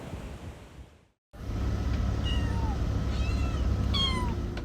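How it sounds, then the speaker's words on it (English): Kittens meow in several short, high-pitched calls over a steady outdoor rumble of wind and surf, with a brief dropout near the start and no talking. "That's the sound of kittens and puppies getting ready to go on the road trip of their life."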